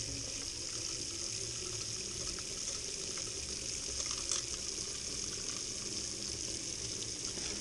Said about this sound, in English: run it under cold water, to take the pressure down